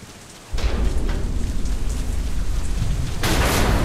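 A thunderstorm in the game Deadlight: driving rain swells suddenly into a loud, sustained roar with deep thunder rumbling through it, surging again near the end, with no voices.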